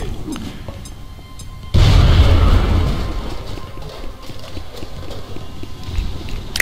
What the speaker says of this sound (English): Alright, grenades!